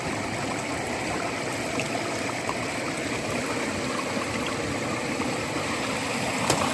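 Small gold sluice with water running steadily through it as gravel is fed in, a constant close rushing trickle with no voices.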